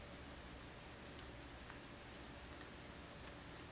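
Scissors trim fly-tying fibers on a shrimp popper fly, giving a few faint, close snips in a quiet room.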